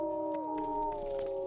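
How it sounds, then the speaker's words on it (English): Wolves howl in the video game WolfQuest, several long sustained tones layered and gliding together in a steady, continuous chorus with no talk. "The wolves are here."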